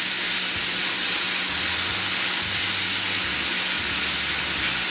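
Flank steak pieces sizzling in a hot pan over medium heat, a steady broad hiss filling the whole stretch with low clatters underneath, close and fairly loud with no talking.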